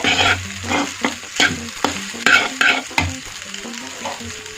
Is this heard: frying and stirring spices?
yes